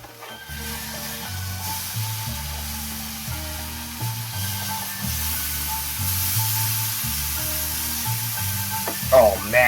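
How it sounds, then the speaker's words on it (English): Food frying in a nearly covered pan gives a steady hiss and sizzle, partly under loud rhythmic music throughout. "Oh man, listen to that sizzle."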